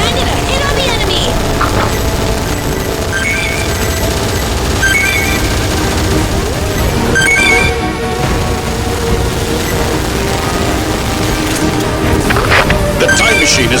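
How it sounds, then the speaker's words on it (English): Cannon fire striking enemies in the video game Earth Defense Force 6, a dense, continuous roar of blasts and explosions that holds loud from start to finish. "Copper cannons landed a hit on the enemy!"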